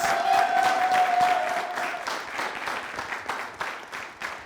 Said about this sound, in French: On va faire beaucoup d'applaudissements pour le Phénix.